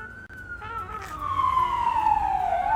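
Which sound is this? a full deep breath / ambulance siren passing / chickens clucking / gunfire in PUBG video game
ambulance siren passing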